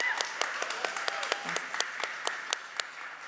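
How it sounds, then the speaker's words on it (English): Scattered applause from a small audience at a press conference in Mumbai, sparse individual claps rather than a full ovation, moderately quiet and steady for several seconds. "can we applaud that, please?"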